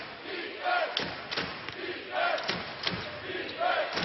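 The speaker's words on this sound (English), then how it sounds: "It's not a big crowd, but they're spirited here tonight." A small but spirited crowd at a college basketball game in the NIT, SFA versus Stanford, cheers and shouts in bursts with scattered thumps and claps at moderate distance.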